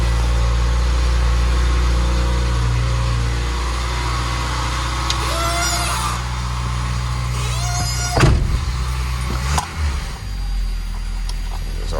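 A 1988 Dodge Raider 4x4 engine idles steadily up close, its revs settling lower, with a few brief mechanical clicks and a short thump partway through; no one speaks.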